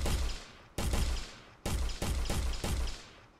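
Gunfire in an Unreal Engine game, several loud close shots each with a booming tail, coming in irregular succession over a few seconds.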